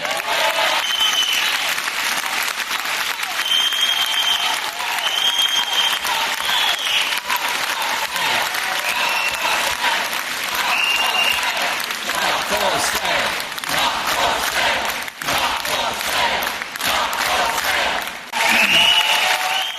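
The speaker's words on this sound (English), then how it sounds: "Jeremy Corbyn getting a big round of applause there for that" A big round of audience applause greets Jeremy Corbyn's line on the NHS at a campaign event, loud and sustained with dense clapping, cheering voices and whistles for the whole stretch.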